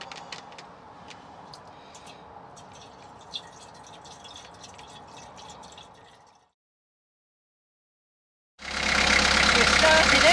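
Beta 43 diesel engine on a narrowboat running just after a start, following a water pump replacement, a steady low rumble that cuts out midway and then returns much louder and closer after a silent gap.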